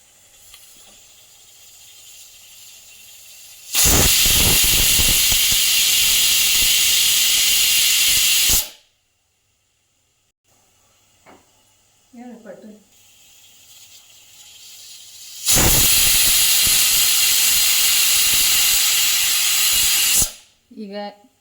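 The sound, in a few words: pressure cooker whistling while cooking tomato rice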